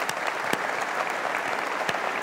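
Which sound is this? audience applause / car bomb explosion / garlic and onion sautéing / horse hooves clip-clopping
audience applause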